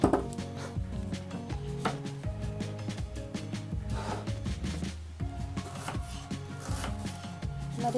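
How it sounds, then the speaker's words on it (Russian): Rapid knife chops dicing an onion on a cutting board, a quick irregular tapping rhythm close up, with faint background music underneath. "Нарезаем наш лук кубиками."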